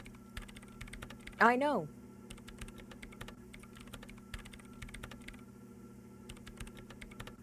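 Rapid typing on a computer keyboard in the video game Disco Elysium, a steady stream of light clicks continuing throughout under a low hum, with a brief spoken line near the start.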